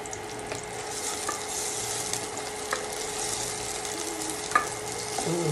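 Food fries in cooking oil with a constant close hiss and scattered sharp pops of splattering, a few louder spits standing out near the end.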